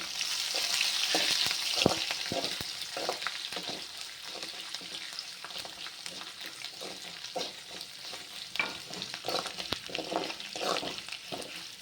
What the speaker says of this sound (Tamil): அந்த பூண்டு மட்டும் கொஞ்சம் வதங்கிட்டோன்னு